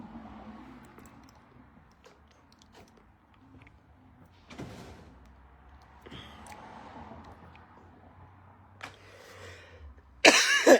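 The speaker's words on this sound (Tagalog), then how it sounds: "Grabe ubo ko ngayon." Several coughs spaced out by quiet pauses, close to the microphone, ending in a louder, harsher burst.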